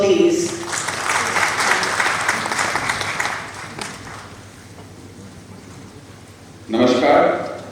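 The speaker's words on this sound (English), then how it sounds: "A huge round of applause for sir, please." An audience at a climate change conference applauds a speaker, a dense round of clapping that fades after a few seconds before a voice begins, then a brief second burst of clapping near the end.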